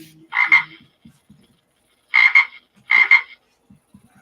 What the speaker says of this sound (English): Stupid frog.